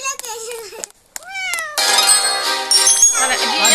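A cat meows close by: a few short, rising, wavering cries, then a longer, louder, strained yowl that carries to the end.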